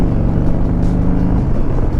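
A steady Harley-Davidson engine drone hums loudly throughout, a constant low rumble of the motorcycle cruising at even speed on Skyline Road.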